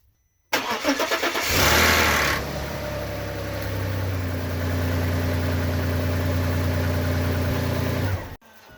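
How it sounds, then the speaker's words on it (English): A Volkswagen Passat B5 2.8L V6 engine cranks and catches at about half a second after camshaft seal and timing belt work, then settles into a steady, close idle with a low even hum until it cuts off near the end. "I'm gonna start the car now for the first time."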